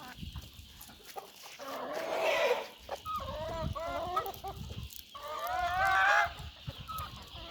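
Chickens in Urgench cluck and squawk repeatedly, fairly close, with brief rising calls and a low background hum.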